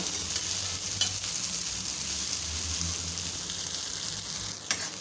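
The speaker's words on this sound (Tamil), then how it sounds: "எல்லாமே நல்லா சேர்கிற மாதிரி அப்படியே கலந்து விட்டுக்கோங்க" Ragi semiya (finger millet vermicelli) being stirred and mixed in a pan, with a steady close sizzle and soft scraping strokes of the spoon running continuously throughout.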